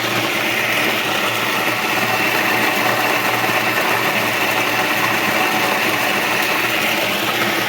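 An Isomac Tea Due coffee grinder grinds beans with a loud, steady motor whir and buzz that hold evenly throughout, with no one speaking.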